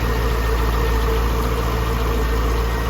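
A stock 2002 Corvette C5 Z06 with an aluminum-block 5.7-liter LS6 V8 idles close and loud, a constant, even low rumble with no voices over it.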